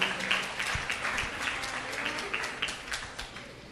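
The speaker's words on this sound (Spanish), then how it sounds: "Dele ese aplauso a Jesucristo." Church congregation applauding during a worship service, a brief burst of fairly dense clapping from many hands, moderately loud and unbroken, with faint voices mixed underneath.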